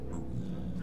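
Dogs in the Minecraft video game whimpering, soft high whines over a low game background hum, fairly faint and continuous.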